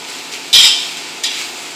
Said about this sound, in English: I'm going to go ahead and start adding the rice in